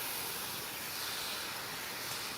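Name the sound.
tangerine juice sizzling on caramelized banana in a pan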